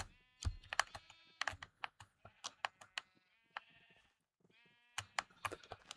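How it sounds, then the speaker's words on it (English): Blocky sheep in Minecraft Legacy Console Edition bleat in a string of short, clear calls with quiet gaps between them, some overlapping, sounding close and moderately loud. "We're going to name some sheep"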